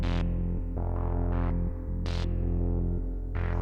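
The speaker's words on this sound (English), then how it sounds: "I've got bits of the synth controlling other bits of the synth." A Grandmother synthesizer patched so that parts of it modulate other parts puts out a steady, low, throbbing drone broken by pulsing bursts of brighter tone, heard alone and up close.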